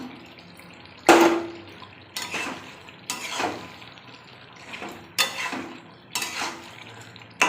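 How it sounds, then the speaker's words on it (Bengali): Fried potatoes dropped into a pot of chicken curry: about five separate clattering knocks of spoon and potato against the metal pot, spaced roughly a second apart, with a faint sizzle underneath and no talking. "এবার আমি ভেজে রাখা আলুগুলো দিয়ে দিচ্ছি"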